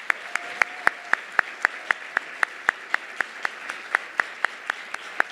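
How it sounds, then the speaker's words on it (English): Audience applause at an awards ceremony, led by a steady, evenly spaced run of sharp claps close by over a soft wash of further clapping from the crowd. "Can we hear another round of applause,"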